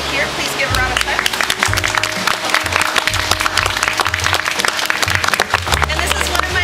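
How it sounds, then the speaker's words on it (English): Audience at an art guild event giving a round of applause, steady clapping with distinct individual claps mixed with a low hum and crowd noise throughout. "Please give a round of applause."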